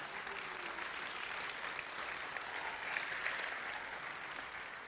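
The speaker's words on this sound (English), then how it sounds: "Go ahead and applaud for that." A church congregation applauds during a Sunday message, producing a sustained, even roar of clapping from many people throughout, with no voice standing out.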